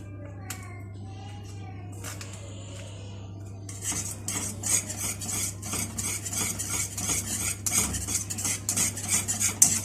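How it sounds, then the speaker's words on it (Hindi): Cream stirred into a creamy sauce in a pan over low heat, first quiet then a busy run of spoon scraping and clinking against the pan, close and continuous under a low steady hum. "अब हम इसमें क्रीम डालेंगे"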